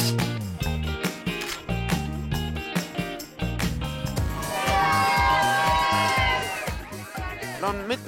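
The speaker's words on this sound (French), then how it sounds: "Tout le monde crie « Bonne année, bonne année »" A crowd in France shouts and cheers at midnight on New Year, with dense overlapping voices and whoops, loud and continuous, with a rising tonal swell of shouting in the second half.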